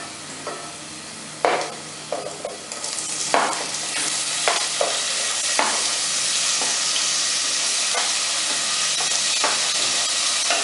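Roughly chopped tomatoes drop into a pan of cooked onions and garlic and burst into a loud, steady sizzle and hiss, broken by stirring clatters and sharp spatters.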